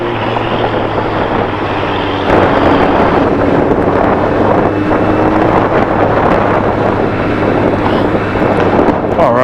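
Loud, steady wind roar buffets a vehicle cruising down Interstate 10, with a low engine drone underneath and a surge in gusting intensity partway through; no one speaks.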